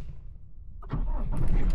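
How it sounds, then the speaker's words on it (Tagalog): A car engine cranks and catches during a basic driving lesson, rising from a faint low rumble into a steady idle that is close and moderately loud, with no talk over it. "So, umaandar na ang sasakyan."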